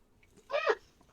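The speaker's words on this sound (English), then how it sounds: "Oh, that's a cute kitty. She's attacking me." Maggie, a pet cat, gives a single short meow close by, rising and falling within about a third of a second against a quiet room.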